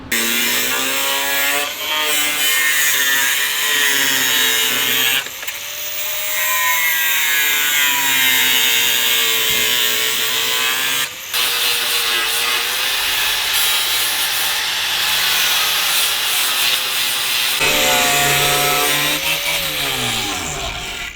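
A power tool grinds and saws through a Transit van's wheel-well to clear room for new tires, a loud, harsh, continuous whine that pitches up and down with brief pauses between cutting passes.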